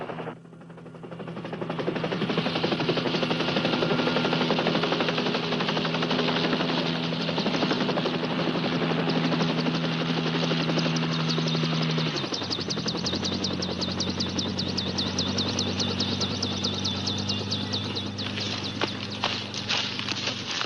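A helicopter carrying a heavy load flies steadily with a loud, continuous rotor and engine drone, and the pitch shifts partway through with a faster chopping rhythm near the end.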